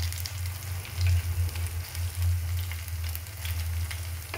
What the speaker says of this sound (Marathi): हा अशा पद्धतीने आपण आता तेलात सोडूया